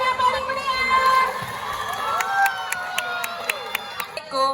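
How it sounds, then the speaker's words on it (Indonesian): A school audience at a student council election event cheers and shouts, with children's voices rising in an excited crowd roar and scattered claps punctuating the noise. "Beri tepuk tangan yang paling meriah"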